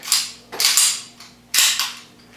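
Magazine seated into a 1911 pistol during a combat emergency reload from slide lock: a few sharp metallic clacks and scrapes, close and loud, in quick bursts with no talking.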